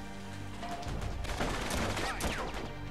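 In the Uncharted 3 video game, sniper gunfire cracks out amid a rattling burst of shots and impacts. The shots are layered over game ambience and grow busier toward the middle of the clip.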